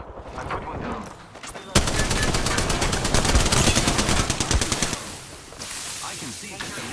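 Rapid bursts of video game gunfire crackle loudly and nearly nonstop through a firefight, with a dense volley of quick shots in the middle and steady battle noise around it.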